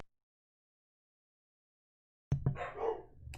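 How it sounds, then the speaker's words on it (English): Dogs bark nearby, a short burst of yaps that breaks out abruptly after near silence during an indoor live stream. "Sorry for the dogs. I don't know what they're barking at."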